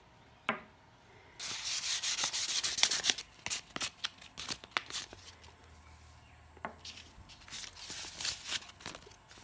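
Hand sanding with fine 1200 grit sandpaper during a Stanley Bailey No. 4 hand plane restoration, heard as close, uneven bursts of dry rubbing and scrubbing strokes with brief pauses, no talking.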